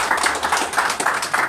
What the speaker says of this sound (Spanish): Bueno, un aplausote para...